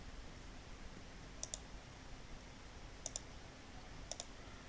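Computer mouse clicking during spreadsheet work, three quick double clicks spaced a couple of seconds apart, crisp and close over a faint steady background hiss.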